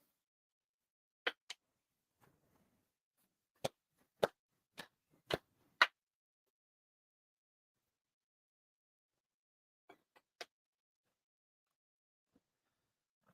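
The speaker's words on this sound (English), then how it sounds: "Shido Haide 4 sincere claps." Ritual hand claps ring out sharply in a quiet hall during a Shinto-style New Year ceremony at a church. The crisp, isolated claps come in small spaced groups: a quick pair, then a run of several, then a later pair, separated by silence.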